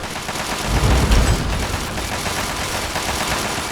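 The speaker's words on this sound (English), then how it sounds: "Gauss rifle." Gauss rifle fire in Fallout 3, Operation Anchorage: a heavy boom with a deep low-end thump about a second in, followed by a sustained dense rumble of combat noise that holds steady.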